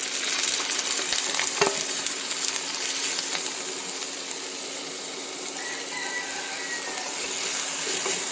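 Finely chopped ponnanganni spinach leaves frying in a pan, a loud, even, dense sizzle that fills the whole stretch, with a few faint stirring clinks underneath and no speech.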